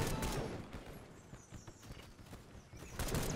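Rapid bursts of machine-gun fire in a WW1 shooter game, dense and continuous, with sharp repeated cracks through the whole stretch.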